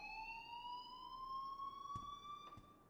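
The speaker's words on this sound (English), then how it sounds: "please turn off that alarm" A steady electronic alarm tone rings continuously in the video game Life is Strange Remastered, a loud sustained pitched drone with harmonics and two brief low thumps near the end.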